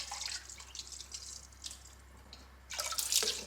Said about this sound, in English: We'll wash this until our water runs pretty clean.